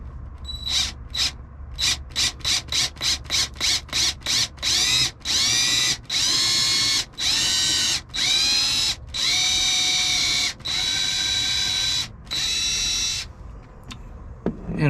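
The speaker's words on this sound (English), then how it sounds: "So I will drill a hole here and then drive this into place" A battery power drill bores a hole during a Sprinter van build's gray water storage upgrade, whirring in a quick run of short bursts that stretch into longer, steady spins, loud and close.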